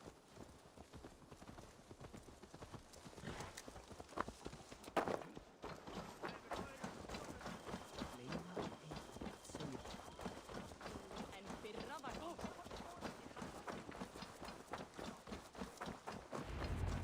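Horse hooves clip-clop in a steady rapid rhythm in Assassin's Creed Valhalla, a continuous trotting patter kept fairly faint under game voices talking.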